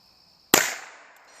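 A single Ruger 10/22 rifle shot fired standing at a target 130 yards away: one sharp, loud crack with a trailing decay, then a faint tick shortly after.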